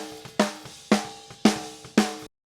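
Unprocessed rock snare drum, no EQ or compression, struck four times at an even slow pace, each hit a bright crack with a ringing tonal body and short decaying rattle, close and alone with no talk.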